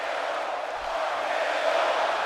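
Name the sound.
crowd cheering in video game WWE 2K17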